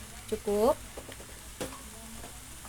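A spatula stirs fried noodles for Padang-style mie goreng in a hot pan, giving soft scraping and light sizzling, with a brief spoken word from a nearby voice.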